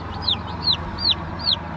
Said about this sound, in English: We got 15 Cornish crosses in there.